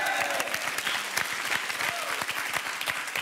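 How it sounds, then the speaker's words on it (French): Studio audience on a French television dating show applauds steadily, a dense continuous clatter of many hands close by, with no pauses across the stretch. "On vous applaudit, Michel et Patrice."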